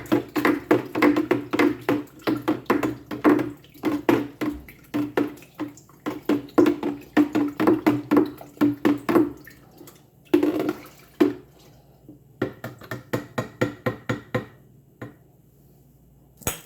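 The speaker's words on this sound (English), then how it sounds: "We need the big stirring spoon. And I'm just going to stir that up." A big spoon stirs a Master Cleanse mixture in a container, producing a rapid series of sharp clinks and sloshing knocks in bursts that thin out toward the end, close and moderately loud.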